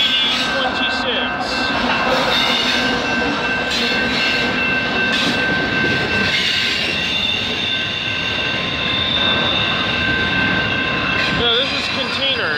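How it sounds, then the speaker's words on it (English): A container freight train passes close and loud, led by locomotives 8776, 8772 and 8026, with a continuous rumble, high wheel squeal and some rail clatter, while someone talks over it. "No, this is containers. I wonder what this train could be."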